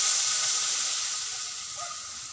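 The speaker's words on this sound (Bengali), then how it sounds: "একটু সামান্য বাটিটা ধুয়ে জল দেব।" Tap water runs steadily in a home kitchen while a bowl is rinsed during preparation of prawns steamed in ash gourd leaves, giving a close, continuous hiss that fades slightly toward the end, with no talking.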